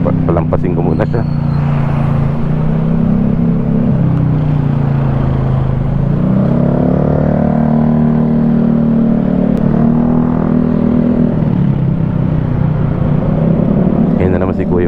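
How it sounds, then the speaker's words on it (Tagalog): A loud motorcycle runs close behind on MacArthur Highway, its engine droning steadily with rising and falling pitch throughout, under someone talking over it. "Kaso maingay yung motor na nasa likod ko."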